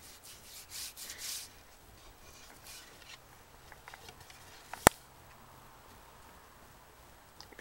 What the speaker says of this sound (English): Just showing you how this is done, how you do this correctly, and rub it in with your hands.